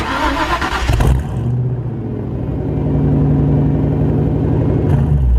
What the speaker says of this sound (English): The exhaust is gonna be the best thing you can get for your foxbody Mustang.